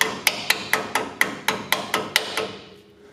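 Hammer taps seating a brake line retaining clip back in place during a braided brake line install on a Nissan NP300, about ten sharp, evenly spaced metallic knocks, close and clear, fading to quiet at the end.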